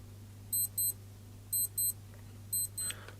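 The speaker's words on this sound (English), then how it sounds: "And this is what the alarm sounds like." Casio G-Shock GST-B200G G-Steel wristwatch alarm beeping in three evenly spaced pairs of short, high electronic double-beeps over a faint steady hum, fairly quiet and close.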